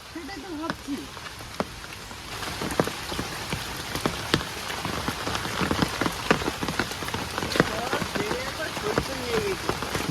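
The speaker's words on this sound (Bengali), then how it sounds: "ভালো বৃষ্টি হয়েছে ভালো বৃষ্টি হয়েছে" Steady heavy rain pouring down, with dense drops pattering on surfaces and sharp splashes throughout, close and loud.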